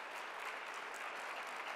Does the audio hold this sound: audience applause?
yes